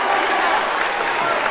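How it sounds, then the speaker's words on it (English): Audience applause for a volunteer called up on stage at a stage hypnosis show, a steady dense wash of clapping lasting the whole short stretch, close and fairly loud with some crowd noise mixed in. "Give him a big round of applause."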